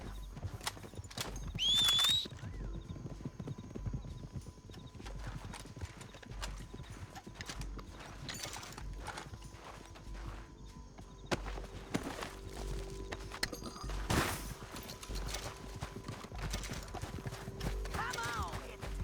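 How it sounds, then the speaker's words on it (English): Steady clip-clop of horse hooves at a brisk pace in Red Dead Redemption 2, with a short whinny early on and game ambient noise underneath. "horses!"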